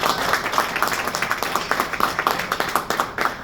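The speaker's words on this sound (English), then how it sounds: "Please, thunderous round of applause for making it over this morning." Rhythmic clapping at a World Koesister Day morning event: a crowd applauding in a steady, even beat, fairly close and lively, with no talk over it.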